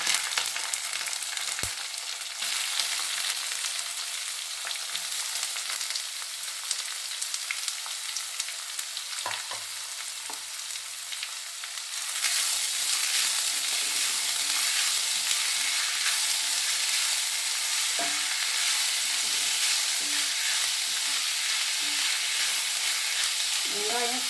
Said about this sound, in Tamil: கருவேப்பிலை போட்டுட்டு முதல்ல இந்த வெங்காயத்தை போட்டுக்கலாம்.